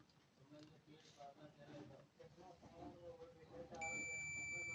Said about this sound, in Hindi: रेड वायर के बाद सफ़ेद वायर पे चेक किए, बीप की आवाज़ होगी